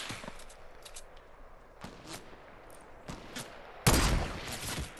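Gunshots from a sniper-style exchange in the video game Fortnite, a few sharp cracks spaced irregularly, the last one loud and close with a short ringing tail over low game ambience.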